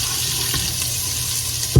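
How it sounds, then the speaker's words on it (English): Garlic sautéing in a pan gives off a constant close sizzle for a moment, then a brief louder bump right at the end. "saute the garlic a little bit and let that get brown a little bit"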